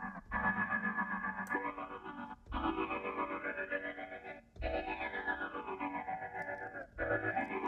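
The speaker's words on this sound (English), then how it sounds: "Got like a talk box type of vibe." Heavily processed synth or vocal sample from a Kontakt drag-and-drop sampler with a talk-box style effect: loud, distorted, vowel-like sweeping tones in three long phrases separated by brief breaks, with no speech.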